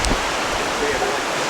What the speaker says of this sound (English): Check out this river.